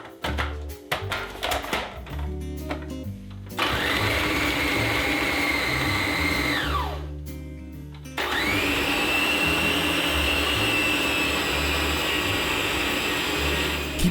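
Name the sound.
food processor pounding fufu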